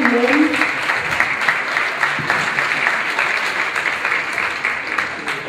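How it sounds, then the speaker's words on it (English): A dance championship audience applauds during an award presentation, a full, even wash of clapping from a large crowd lasting the whole stretch, with a brief voice at the start and a slight fade toward the end. "Great round of applause."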